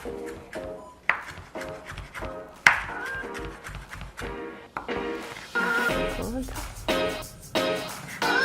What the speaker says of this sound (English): And my cilantro, quick little chop